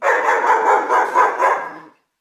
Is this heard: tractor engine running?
no